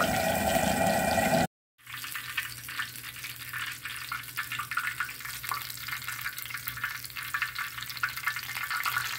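Seasoned pork frying in fat on a plow disc over a fire, a steady crackling sizzle after a brief cut, close and even, with a low constant hum beneath and no talk.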